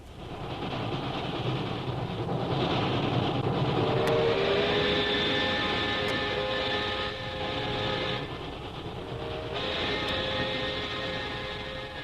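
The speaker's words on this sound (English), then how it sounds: "we find Jungle Jim and Shanghai Lil on a train bound for Calcutta." A train rolls along at speed in a radio drama sound effect, a continuous rumbling clatter with faint whistling tones, steady and moderately loud throughout.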